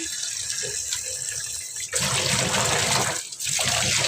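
Running tap water pours over cut cauliflower and other vegetables being washed, a steady close splashing that swells louder midway and briefly drops out before resuming, with no talk.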